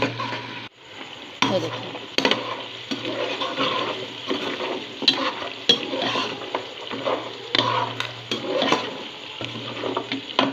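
Onions and beef fry with salt in a pot for beef yakhni pulao, with a continuous close sizzle and frequent sharp spoon scrapes and clinks against the metal. A voice speaks briefly over the cooking.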